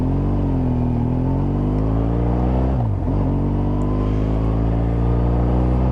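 A 2013 BMW R1200GS motorcycle engine drones loud and close while riding, a steady deep rumble that dips and rises briefly mid-ride as the revs shift.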